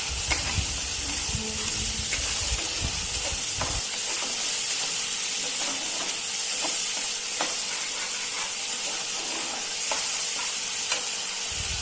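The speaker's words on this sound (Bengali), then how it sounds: "এবার পরিমাণ মতো লবণ দিয়ে মশলাটা ভালো করে কষিয়ে নিচ্ছি" Masala with salt being stir-fried in a pan for a spicy lady's finger (okra) dish, a steady sizzle with repeated scraping, clicking strokes of the spoon throughout, close and alone.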